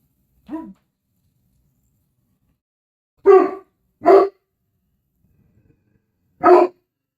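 A dog barks four times, loud and close: one bark, a pause, then two in quick succession and a final single bark, with silence between.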